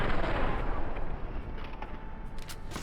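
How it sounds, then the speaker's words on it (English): A plasma grenade goes off in Fallout: New Vegas amid gunfire, a dense, rumbling burst of blasts and shots that starts loud and slowly fades. "Oh, we're doing plasma grenades now?"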